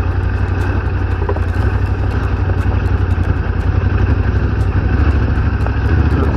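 An adventure motorcycle rides off-road over a rooty trail in second gear, its engine droning steady and loud throughout with a constant clattering rumble, close up and without talk.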